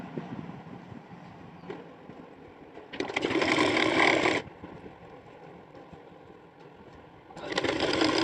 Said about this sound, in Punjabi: ਸਹੀ ਤਰੀਕੇ ਨਾਲ ਆਪਾਂ ਸੀਨ ਲਾਵਾਂਗੇ